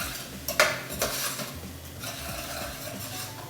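Chana masala being stirred with salt in a pot: a few soft scraping clinks of a spoon against the metal near the start, then a low steady kitchen hiss as the stirring continues quietly.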